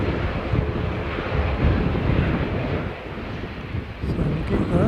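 ATR turboprop aircraft engines drone steadily with heavy wind buffeting across the microphone, a broad continuous roar that holds level throughout without clear approach or fade.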